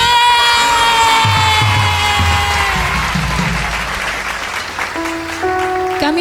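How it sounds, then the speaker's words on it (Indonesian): Applause at an online children's Sunday school church service, a continuous spread of clapping mixed under loud sustained music with held tones and a chord change near the end. "Sekali lagi berikan tepuk tangan yang dahsyat untuk Tuhan."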